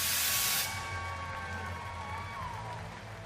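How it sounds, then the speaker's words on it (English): A crowd at the STIHL Timbersports U.S. Pro Championship 2023 bursts into applause for a competitor, loud and hissing at first, then quickly fading under a lingering background hum. "big round of applause for Ben Nicely"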